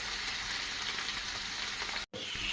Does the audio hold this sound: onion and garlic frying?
yes